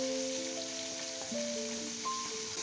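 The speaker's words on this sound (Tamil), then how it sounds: "இப்போ லைட்டாக உப்பு சேர்த்துட்டு நல்லா வதக்கி விடுங்க." Onions sautéing with salt in a pan for chicken biryani, giving a steady, soft sizzle under tonal background music throughout.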